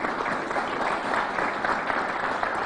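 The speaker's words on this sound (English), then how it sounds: "So give them a round of applause, too." A crowd applauds at an outdoor groundbreaking press conference for a new community center in Irondequoit, with steady, dense clapping at moderate volume from start to finish.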